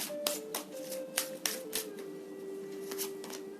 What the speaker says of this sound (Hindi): Now we will take more cards.